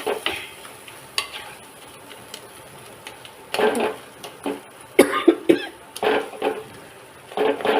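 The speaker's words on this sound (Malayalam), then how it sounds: "ഇങ്ങനെ ഒന്ന് ഉടച്ച് നല്ലപോലെ ഇളക്കി" Mashed egg is stirred into onion gravy in a pan for mutta thaalichathu, producing intermittent scraping and clattering bursts under a soft sizzle, close by, with a cough or muffled voice in places.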